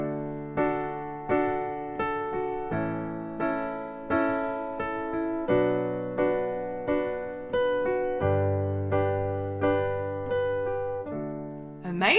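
Piano chords struck in a steady pop rhythm, with repeated rhythmic attacks over a sustained low bass note, played alone and clearly.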